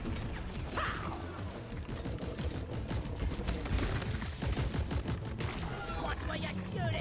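Gunfire in a video game: repeated bursts of automatic shots mixed with mechanical clatter and impacts, continuous and busy, with voices talking over it.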